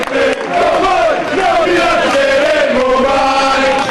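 Italian football fans chanting in unison for their team, a loud continuous crowd chorus with rising and falling melodic lines, close and dense throughout.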